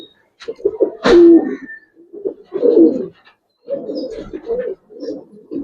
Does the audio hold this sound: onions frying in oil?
no